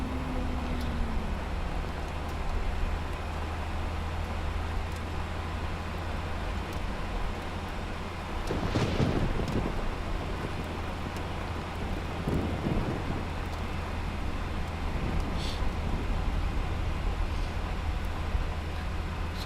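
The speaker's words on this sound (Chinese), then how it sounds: "怎么下雨了？" A thunderstorm with steady rain hisses throughout, with rolling bursts of thunder midway, during an outdoor scene in a Chinese TV drama. No one speaks.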